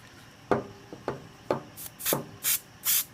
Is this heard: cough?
no